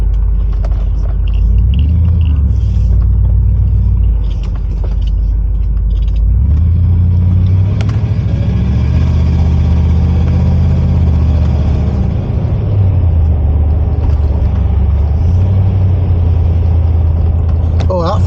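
Range Rover P38 pulling away and driving at low speed, a loud, close, steady engine rumble with gentle rises in revs, heard from inside with a person talking over it.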